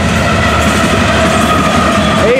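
FEC101 freight train passing at night with multiple locomotives, a loud continuous rumble of engines and rolling freight cars close by, with steady wheel clatter and a faint squeal toward the end.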